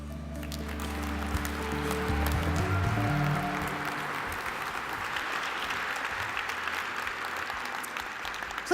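A crowd applauds steadily for several seconds, a dense wash of clapping that stays fairly even, with a low hum underneath early on.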